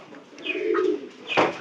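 Pigeons in a loft coo nearby, with a throaty call followed by a short pause and then a second louder coo, against faint background noise.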